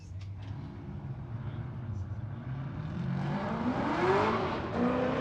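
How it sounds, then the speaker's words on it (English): Formula Drift PRO2 drift car on a Drift HQ S chassis, its engine droning at a distance and then swelling into a louder revving sweep toward the end, under a commentator's voice. "Schlagel in that Drift HQ S chassis"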